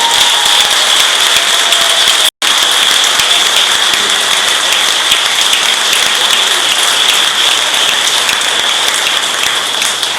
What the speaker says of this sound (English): Have a round of applause again